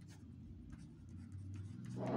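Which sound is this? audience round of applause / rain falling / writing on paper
writing on paper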